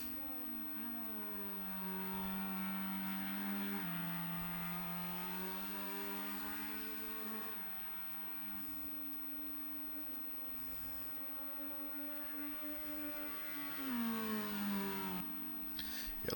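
Super V8 race car engine in Automobilista 2 at Donington, a continuous throaty V8 roar rising and falling through gear changes and corners, fairly quiet overall with no talking.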